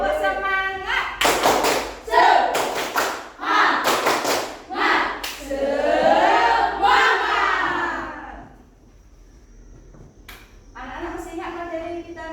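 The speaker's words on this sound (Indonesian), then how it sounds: "Kita akan melaksanakan ice breaking, tepuk semangat." A classroom of children performs the rhythmic 'tepuk semangat' clapping ice-breaker, sharp clap patterns alternating with shouted chanted phrases, then a quieter pause before a short final burst of claps; a teacher's voice is heard as well.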